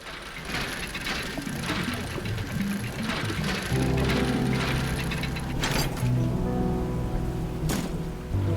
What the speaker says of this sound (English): Start dredging again.